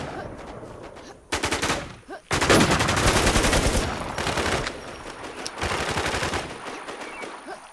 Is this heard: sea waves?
no